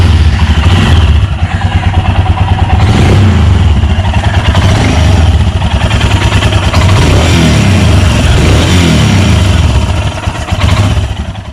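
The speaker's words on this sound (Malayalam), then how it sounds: "നമുക്ക് നമ്മുടെ മൂന്നാമത്തെ വണ്ടിയെ സ്ലീറ്റ് മോഡലിൻ്റെ സൗണ്ട് ഒന്ന് ചെക്ക് ചെയ്യാം." A 2019 Royal Enfield Himalayan ABS in Sleet colour runs loud and close, its single-cylinder engine thumping in a fast, even beat at idle with a few blips of the throttle.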